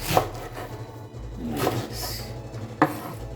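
A knife chops okra into big pieces on a cutting board for Nigerian okra soup, three distinct, well-spaced thuds close by in a quiet kitchen.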